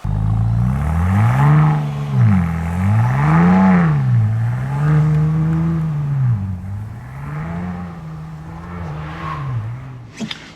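A Ford Bronco Raptor's engine revs and surges repeatedly as it drives and spins donuts in snow, loud and close, the pitch rising and falling in several swells over about ten seconds.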